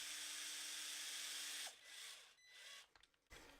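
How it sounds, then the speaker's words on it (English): Cordless power drill driving a screw into an RC car shock mount on a Vaterra Twin Hammers: a high whirring run that stops abruptly, followed by a couple of short bursts and handling noises, fairly quiet. "And I'm going to run it in with my drill."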